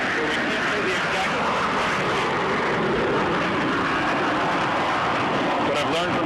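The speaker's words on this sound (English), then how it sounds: "we do have the warplanes passing over us right now, taking off on the runway, heading in the direction right now of Iraq" Military warplanes take off from a base runway and pass overhead, making a loud, continuous roar of jet engines that dominates throughout, with a voice barely audible underneath.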